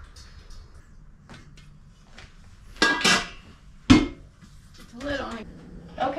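Glass canning jars of apple jelly lifted out one at a time and set down on a towel, giving a few separate clinks and knocks between quieter stretches with soft handling noise.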